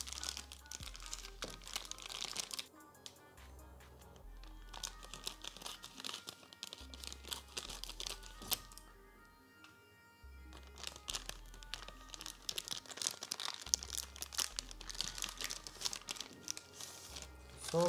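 Crinkling and tearing of a static-shielding polythene bag being opened around a Seagate Barracuda 4TB hard disk, close and continuous with sharp crackles, and a faint low hum underneath.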